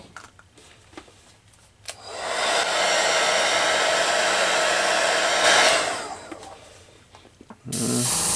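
An airbrush sprays thinned Hobby Lobby acrylic paint in a steady, loud hiss that holds for several seconds, with quieter hissing and small clicks before and a short burst at the end.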